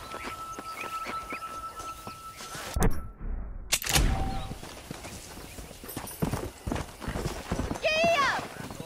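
A horse gallops in the Western video game Red Dead Redemption, rapid rhythmic clip-clop hoofbeats continuing throughout, broken by a loud burst and a whinny, with voices talking over it.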